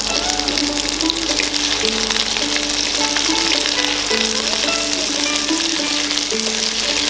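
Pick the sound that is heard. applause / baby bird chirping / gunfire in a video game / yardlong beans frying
yardlong beans frying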